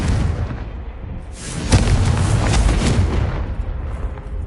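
Confringo blasting spell explodes in Hogwarts Legacy on PS5, a loud deep boom with a rumbling roar that swells and then holds before easing off.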